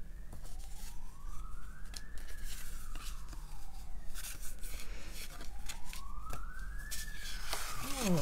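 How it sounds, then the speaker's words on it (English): A wailing siren rises and falls twice in long sweeps, fairly distant, over steady background hum with faint murmuring. "Oh, sirens."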